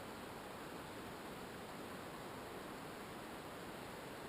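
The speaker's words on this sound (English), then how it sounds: "that river at this point is quite loud" Norris Creek rushes far below a spot some 500 feet up, a faint, steady broadband hiss of distant water with no voices.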